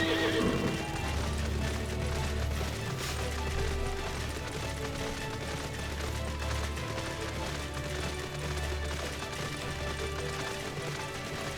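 A horse whinnies and neighs over steady clip-clopping hooves in Final Fantasy XIV: A Realm Reborn, in rain, with a continuous low rumble and busy background ambience throughout.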